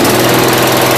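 A 1992 Yard King lawn tractor engine runs after starting for the first time in seven years, a loud, close, steady rough drone with no talking.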